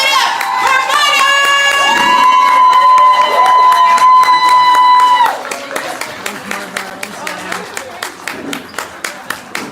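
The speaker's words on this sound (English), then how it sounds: "while you're still clapping, still clapping, still clapping, still clapping," A poetry slam audience cheers with loud whoops and shouts, then breaks into steady rhythmic clapping that continues in even beats, with voices mixed in.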